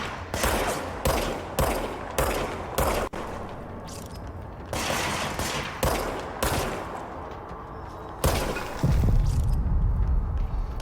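Enemy gunfire in the video game Control, repeated loud automatic bursts in quick succession with short gaps, ending in a heavier, rumbling volley.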